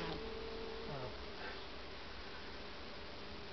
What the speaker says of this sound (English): see if you can hear a queen come in now